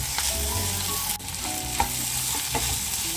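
Sweet corn sizzles steadily in a hot pan with curry leaves, with a few scraping stirs and clinks of a spoon against the pan throughout.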